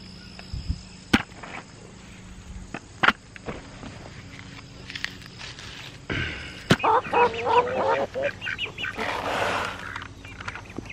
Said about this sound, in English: Come on, Mama Duck. You want to come in too?